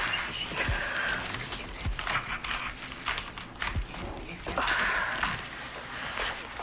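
A dog whimpers and whines in short high-pitched bursts, with faint shuffling and footstep-like sounds nearby and no speech.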